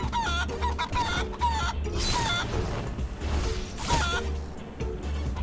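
Repeated clucking from a chicken in the game Guacamelee! 2, a string of short bright calls over busy game effects and thumps, fairly loud and close throughout.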